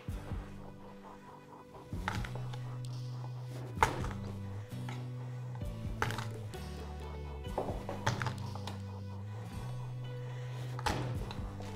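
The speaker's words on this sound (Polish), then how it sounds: "Czosnek też tylko posiekam z grubsza." Garlic is roughly chopped with a knife on a board, giving scattered dull thunks at an uneven pace, close and fairly faint beneath background music.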